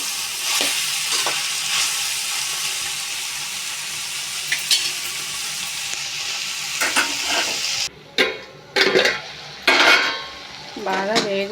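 Barbati long bean curry fries in a pan with a loud, dense sizzle and a spoon scraping as it is stirred; the sizzle cuts out near the end, leaving a few separate clanks and scrapes.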